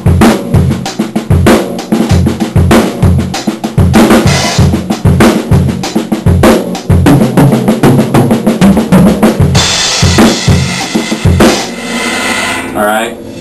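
A full drum kit plays a steady simple groove with a rolling fill worked into it, accents moving around the toms and bass drum hits at the end of the phrase, loud and close, ending on a crash cymbal wash.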